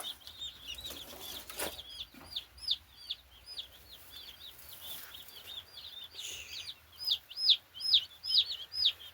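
Young broiler chicks under heat lamps, chirping and peeping in a dense flock, high repeated calls growing louder toward the end, with a faint background hum.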